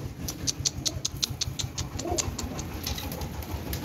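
Pigeons at a home loft giving soft, repeated coos, with a quick run of high chirps early on and a low throaty murmur underneath, fairly faint against a steady background hiss.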